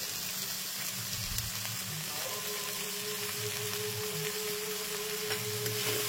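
Vegetables and capsicum sizzle steadily in a hot pan with salt added, a continuous moderate frying hiss with faint stirring scrapes.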